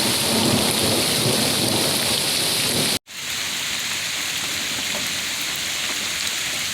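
Steady, loud rain pours throughout with low rumbling thunder in the background during a stormy outdoor scene, briefly cut off by a silent gap before the downpour resumes; no voices are heard.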